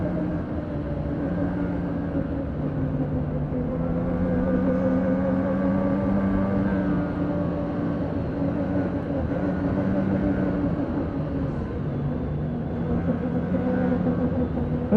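A 2020 Polaris Switchback Assault 850 snowmobile engine drones steadily as the sled rides through trees, a loud, sustained mechanical roar with slight rises and dips in pitch, close and continuous.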